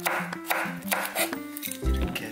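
A knife slices cheongyang chili peppers into thin rounds on a cutting board, making quick, close, regular taps and crisp cuts in a steady rhythm.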